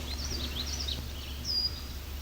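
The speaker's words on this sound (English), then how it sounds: "eep, one of their calls," A male red-winged blackbird gives short, high eep calls at a lake, several faint chirps heard from a distance over a low steady hum.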